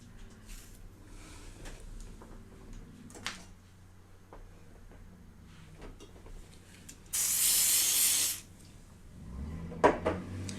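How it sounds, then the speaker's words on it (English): One sustained hissing spray from a spray bottle onto the lace of a wig, lasting about a second, close by, among soft handling and clattering noises in a quiet room. "And this one you can just spray on the outside of the lace."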